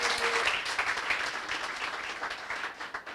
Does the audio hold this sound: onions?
no